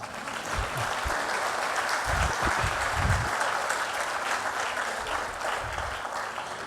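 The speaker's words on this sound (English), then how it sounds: "A round of applause for him," Lecture-hall audience claps warmly for architect David Adjaye, a dense, even wash of many hands applauding continuously at a fairly loud, steady level with no speech over it.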